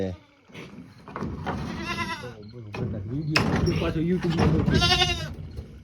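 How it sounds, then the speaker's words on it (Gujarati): Goats bleat repeatedly while being unloaded from a vehicle on a goat farm. The calls are loud, close and overlapping, with handling noise and people talking in between. "હવે તૈયારી કરી બકરા ઉતારવાની તો મારા અલીખાન ભાઈ પાટિયા લઈ રહ્યા છે"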